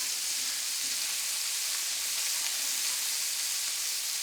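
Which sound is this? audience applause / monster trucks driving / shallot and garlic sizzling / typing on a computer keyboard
shallot and garlic sizzling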